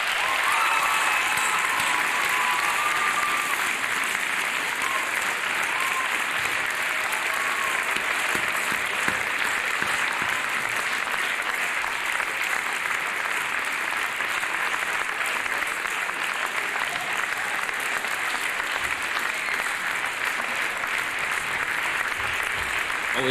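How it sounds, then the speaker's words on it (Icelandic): Sustained applause from a concert audience at a music contest, honoring the sound crew: a dense, steady roar of many hands clapping that holds evenly for over twenty seconds with light crowd noise mixed in. "Við kann klappa á þau."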